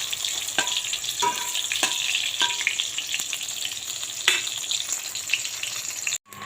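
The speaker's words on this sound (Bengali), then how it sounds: "বেগুন ভাজা তেলেই ডিমটা ভেজে নিচ্ছি।" An egg sizzles in leftover oil from frying eggplant, a steady crackling fry with several sharp spatula taps against the pan spaced through it, close and moderately quiet, ending in a brief cut.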